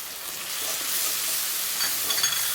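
Ground spices frying in a pan while being stirred: cumin, chili and turmeric powders, with garam masala about to go in. A steady, close hiss fills the whole stretch, with a few faint scrapes near the end and no talking.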